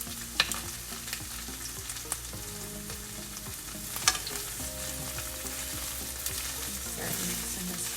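Sliced onions, ginger, bay leaves and cinnamon frying in oil in a pan for Sri Lankan lentil curry, a steady close sizzle with occasional stirring scrapes and light clinks.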